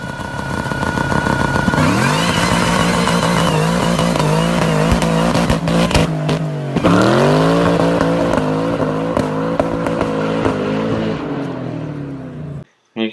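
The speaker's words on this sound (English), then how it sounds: "You can hear all that popping as the engine's trying to limit what they're doing to the car" A Ford Mustang engine is revved hard against its rev limiter, a loud, close roar that climbs, holds and bounces with rapid crackling pops before cutting off abruptly at the end.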